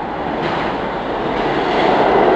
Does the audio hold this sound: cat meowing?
no